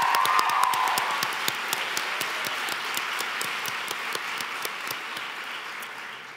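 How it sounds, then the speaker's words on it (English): A large room of people gives a big round of applause at a co-founders' introduction, a continuous crowd clapping with sharp individual claps standing out, moderately distant and fairly steady before tapering slightly. "Let's give him and all men in the room today a big round of applause."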